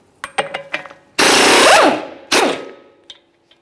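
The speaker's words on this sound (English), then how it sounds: "To help break this free, I'm just using a hammer and punch directly in the center of the axle." A hammer and punch strike the center of a front axle on a 2011-2021 Jeep Grand Cherokee, giving several quick, sharp metallic taps, followed by two longer, loud, harsh mechanical bursts.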